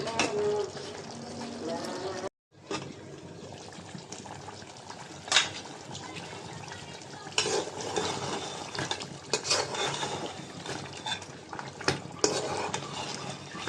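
Beef cooks in a covered pot while a spoon stirs it, giving repeated scraping and clattering knocks against the metal over a moist bubbling sizzle, with a short pause early on.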